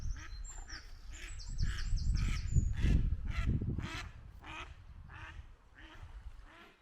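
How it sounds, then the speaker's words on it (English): A protective duck near its ducklings quacks repeatedly in loud, harsh honks, a rapid run of calls heard close and alone. "Obviously this duck's not very happy, like, because it knows it's near its babies."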